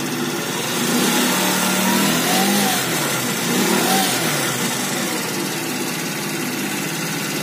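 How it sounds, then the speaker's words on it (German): A scooter engine runs steadily and swells twice as the throttle is opened, loud and close, with a broad mechanical drone and no talk. "Auch wenn ich Gas gebe."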